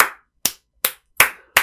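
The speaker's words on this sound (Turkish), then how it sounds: "Ben seni alkışlıyorum Epic Games." Five sharp hand claps in a steady, evenly spaced rhythm, close and loud with clear silence between each clap.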